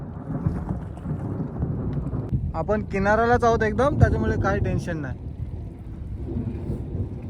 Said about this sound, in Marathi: विजा वगैरे अजून भरपूर चमकतात आणि अजून गडगड करते भरपूर